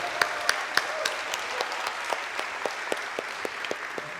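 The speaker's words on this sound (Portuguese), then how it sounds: "Queridos, pode aplaudir Jesus, se é para Ele, pode aplaudir." A church congregation applauds during a sermon, steady moderate clapping with sharp individual claps standing out over a soft wash of hands.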